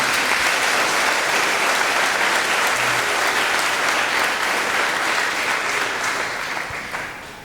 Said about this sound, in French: Un applaudissement pour le maestro.